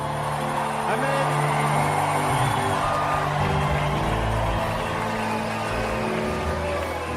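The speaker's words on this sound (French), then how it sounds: "Des cris de joie pour Jésus." A worship congregation shouts and cheers for joy, a loud, dense wash of voices blended with music that runs continuously throughout.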